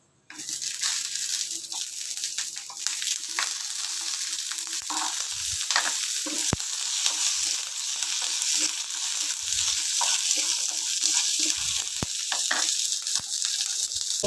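Ridge gourd peel roasting in a pan for a chutney, a steady close sizzle and crackle running the whole time, with occasional scrapes and taps of stirring and no voices.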